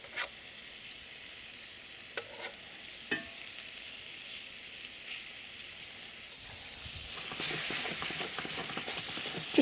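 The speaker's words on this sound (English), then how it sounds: "I just want to gently fry them off in the olive oil" Meatballs frying gently in olive oil for ras el hanout meatballs, a steady soft sizzle throughout that swells louder near the end as they are shaken and turned, with a few light knocks.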